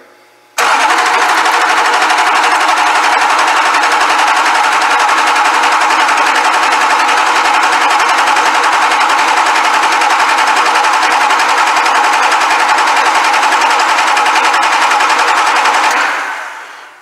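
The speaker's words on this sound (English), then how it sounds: "here we're going to crank for 15 seconds and then measure" LB7 Duramax diesel engine cranking on the starter during a return flow test, a loud continuous rapid chugging that runs for about fifteen seconds and then stops abruptly, with no voices over it.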